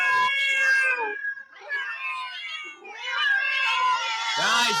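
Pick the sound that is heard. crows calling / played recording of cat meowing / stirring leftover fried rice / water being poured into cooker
played recording of cat meowing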